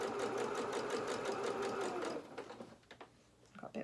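Domestic sewing machine stitching fabric for a sewalong Highland Cow doll head, running loud and steady for about two seconds, then stopping, followed by faint handling and soft sounds.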